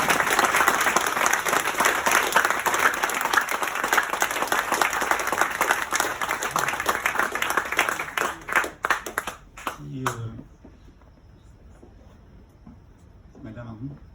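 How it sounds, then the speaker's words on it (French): An audience applauds a person being honoured at a December 2022 ceremony, with dense, loud clapping that runs for about nine seconds and then breaks into scattered final claps before quiet. "Vous pouvez l'applaudir."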